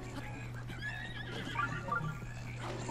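Horses whinny in the video game Zelda Breath of the Wild, with a couple of short neighs rising over a low steady hum and faint hoof clatter, fairly quiet throughout.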